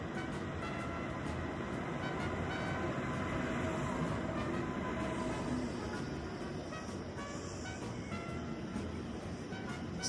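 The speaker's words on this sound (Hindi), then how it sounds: "train is here," A train rolls into a station in Germany with a continuous low rumble and rattle of wheels, steady and fairly loud throughout, with faint squeals above.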